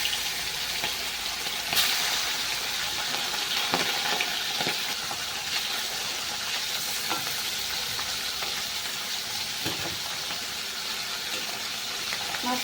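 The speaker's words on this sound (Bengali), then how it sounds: "এখানে আমি নিয়ে নিয়েছি তেলাপিয়া মাছ মাছগুলো আমি ভেজে নেবো" Tilapia fish frying in hot oil in a pan: a dense, steady sizzle fills the whole stretch, with occasional sharp spatters and soft stirring clinks, close and fairly loud, with no talking.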